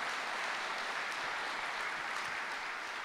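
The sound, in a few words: audience applause for guests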